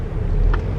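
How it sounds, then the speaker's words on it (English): Steady low rumble of city traffic leaving Paris, a continuous close road drone with a couple of faint higher hisses from passing vehicles, no voices. "So much traffic"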